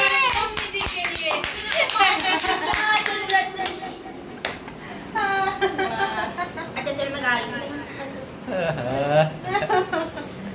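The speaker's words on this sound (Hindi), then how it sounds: "जोरदार तालियां देके मम्मी जी के लिए" A family claps for the mother at home, with bursts of hand claps mixed with talking, a voice and a little laughter.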